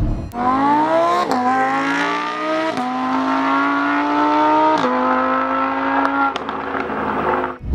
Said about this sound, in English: this is one of the best sounding cars of all time